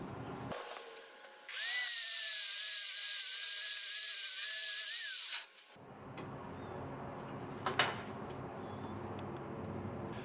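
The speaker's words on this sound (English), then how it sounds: "you'll have already picked up the angle grinder with the wire wheel" An angle grinder fitted with a wire wheel cleaning weld spatter off steel after welding with a Harbor Freight 125 welder, a loud, steady, harsh whine for about four seconds, followed by quieter workshop noise and a few faint knocks.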